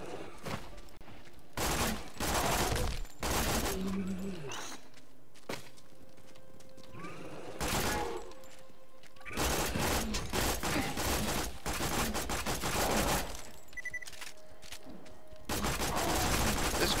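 Bursts of rapid weapon fire in the Borderlands 2 video game, loud repeated volleys separated by short gaps amid other game sounds, with no talking.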